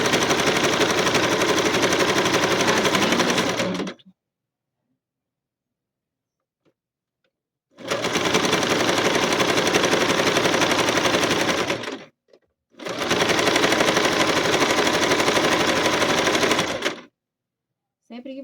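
Domestic sewing machine running a decorative stitch on fabric for a child's backpack, three loud, steady bursts of rapid mechanical stitching of about four seconds each, separated by silent pauses.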